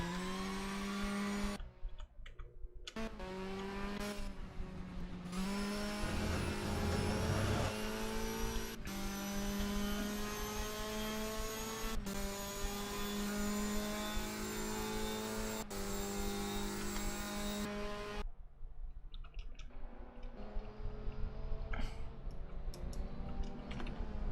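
Touring car engine at Termas de Rio Hondo, heard onboard in a race, held at a loud steady drone with pitch climbing through the gears, short breaks at each shift and a drop and lift near the end.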